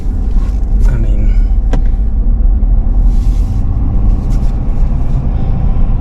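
A 2023 Ford F-350 Tremor pickup with the high-output 6.7 PowerStroke diesel drives along, a loud, steady low rumble of engine and road noise heard from inside, with a few faint clicks and no clear talk.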